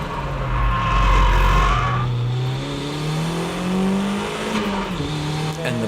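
A car drifting into a corner while braking, its engine note falling and then climbing again over a continuous rush of tire noise, loud and close throughout.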